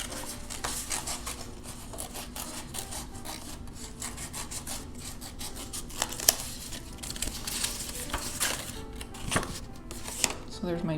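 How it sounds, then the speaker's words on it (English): Scissors snip through craft paper while letters are cut out, a steady close-up rasping and crunching with small sharp accents throughout. "you can just use your scissors to do the drawing"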